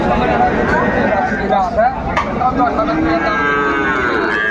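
A young bull calf at the Raniganj cattle market in Dinajpur lows amid a dense, constant din of other livestock and a crowd of people talking throughout.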